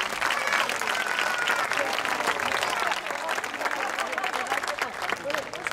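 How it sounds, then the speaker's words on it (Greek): Loud, dense applause from a theater audience fills the whole stretch, a steady wash of many hands clapping that thins slightly toward the end. "δυνατό χειροκρότημα!"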